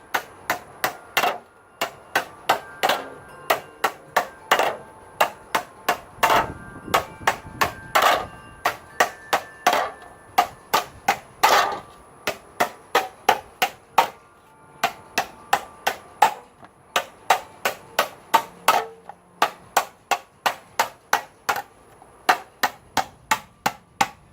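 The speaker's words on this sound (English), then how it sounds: "I'm going to start at the edge with my hammer and work just barely on the sinking pit" Steady light hammer blows ring out on sheet metal worked over a sinking pit, dozens of sharp, bright strikes in a regular rhythm with short pauses, close by and with no talking.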